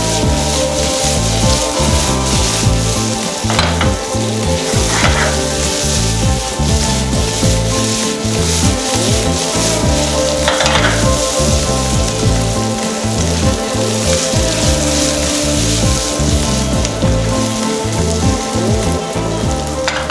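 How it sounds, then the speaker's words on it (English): Carrots and baby potatoes sauteing in a pan over medium-high heat, a dense, continuous close sizzle and crackle with occasional scrapes and clatter of stirring, steady for the whole stretch. "We're going to saute these over medium-high heat until the potatoes and the carrots are a little more tender."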